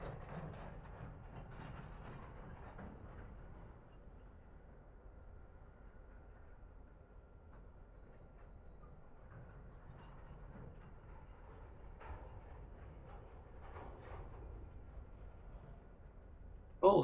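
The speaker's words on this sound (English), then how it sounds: "That looked like a freight train that came past pulling some old vintage carriages." Freight train pulling old vintage carriages past in Train Simulator 2017 on the St Albans Abbey branch line, a faint steady rumble with soft rhythmic clicking of wheels on rail that fades a little and swells again.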